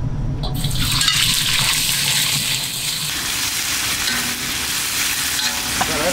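Pork frying in a hot wok with chillies, a loud hissing sizzle that flares as the meat goes in and then settles into steady crackling, close and without talk.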